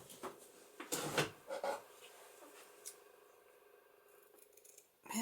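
Scissors cut through ribbon beside lace on a vellum paper craft bag, giving a few faint, close snips and rustles in a quiet room.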